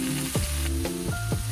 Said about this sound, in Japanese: 油を敷いてさつまいもをフライパンに、